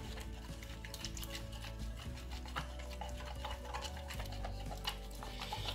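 Peel-off face mask being stirred with water into glue-free slime, a steady wet scraping and clicking of the utensil against the bowl, continuous and close with no talking.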